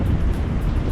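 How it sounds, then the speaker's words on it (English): Strong wind buffets the microphone along the east coast near Saint Peter Port, Guernsey, with a rough sea rumbling beneath in a steady, loud wash and no voices. "it is a little bit windy and the sea is a little bit rough"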